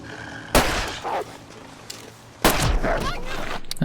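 Two sharp, loud rifle shots fired at a wolf in The Long Dark survival game, each a sudden crack with a short decaying tail, spaced about two seconds apart.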